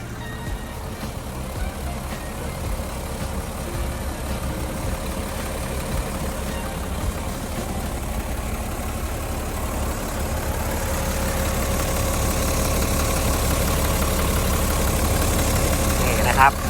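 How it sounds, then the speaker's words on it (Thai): A Mitsubishi 6M60 six-cylinder turbo engine in a Tadano GR-250N-1 25-ton crane idling steadily with a low, continuous rumble and a faint whine, holding a constant tone from start to finish. "เขาจะใช้งานเป็นเครื่องยนต์มิตซูบิชิรหัส 6M60 นั่นเองนะครับ"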